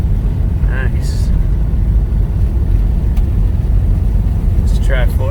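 A 1966 Mustang coupe's 289 V8 with four-speed manual runs steadily with a low, continuous rumble throughout, while a voice speaks briefly near the start and again near the end.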